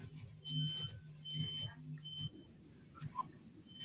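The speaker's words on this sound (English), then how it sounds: "See, now that is a fire alarm" A smoke detector fire alarm beeps in short, high repeated tones at irregular intervals. The beeps are fairly faint over a low background rumble.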